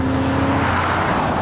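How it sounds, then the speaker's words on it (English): A classic Aston Martin V8 bellows under acceleration, a loud, constant deep roar with a steady low growl, heard alone with no talk. "That lovely bellow, that V8 bellow"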